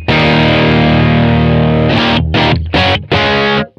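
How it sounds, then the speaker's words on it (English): A bass guitar driven through an EarthQuaker Devices Bit Commander octave synth pedal with the octave up blended in: a loud, raunchy, fuzzy sustained note, then several choppy staccato bursts before cutting off. "It sounds really good with the octave up blended in for really kind of nasty, raunchy distortion."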